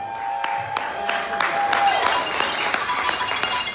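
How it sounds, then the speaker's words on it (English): An outdoor Halloween festival crowd applauding a young knife thrower, a scattered patter of clapping with a few sharp claps and clinks, moderately near, under an announcer's amplified voice. "Ladies and gentlemen, a round of applause, please, for Corinna the Green Monster."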